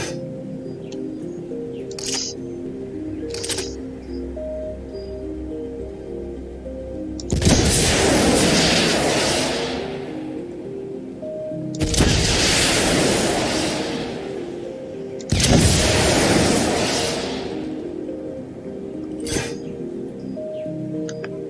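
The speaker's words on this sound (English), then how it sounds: "This is the rocket launcher." A rocket launcher fires three times in an Unreal Engine 4 video game. Each shot is a loud blast with a roaring decay, preceded by a few quieter clicks over a faint tonal background.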